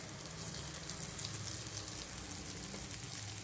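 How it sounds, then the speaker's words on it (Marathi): Gram flour vadis frying in a pan of oil over low heat, a close, even crackling sizzle that runs steadily without pause. "गरम झाल्यानंतर यामध्ये या वड्या परतून घ्यायच्या आहेत"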